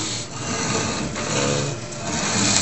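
A powered steampunk hacksaw cuts through metal with a rough, steady rasping and grinding, repeating in a slow back-and-forth rhythm, close and fairly loud, with no speech.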